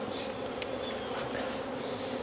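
A dense swarm of honey bees hums steadily up close at an open hive, a continuous buzzing drone with no voices.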